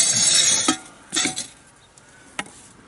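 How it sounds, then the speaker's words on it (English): Heavy cast iron pans clank against oven racks as they go into a hot oven, a few sharp metallic knocks and clinks after a brief hiss, with quiet gaps between. "So I'm going to put all the cast iron"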